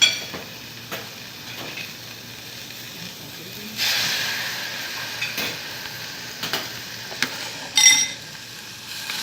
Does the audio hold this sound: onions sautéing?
yes